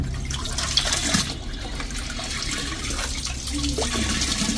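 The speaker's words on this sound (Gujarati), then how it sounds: "તાજા પાણીમાંથી કપડાં બધા આવી રીતે થોડા થોડા પ્રેસ કરીને આ રીતે આપણે તમારે લેતા જવાના છે" Clothes being pressed and squeezed out of fresh rinse water by hand during machine washing give a steady wet sloshing and dripping, close and continuous, with small splashes throughout and no talk.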